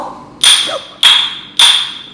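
A clay kulhad cup is dropped onto a hard surface three times in a row, each impact a sharp, close knock with a short bright ring, evenly spaced and alone.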